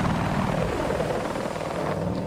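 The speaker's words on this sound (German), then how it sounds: "Jetzt haben wir zwei Helikopter." Helicopter in the video game Battlefield 4 on PS3, a steady loud rotor and engine drone that holds evenly throughout without a break.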